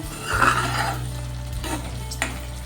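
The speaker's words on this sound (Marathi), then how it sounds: "आणि ही पण आपण छान मिक्स करूया" A spoon scrapes and clacks in a pan as sandge (dried lentil dumpling) vegetable curry is mixed, with a soft sizzle beneath a few brief stirring strokes, close up and without speech.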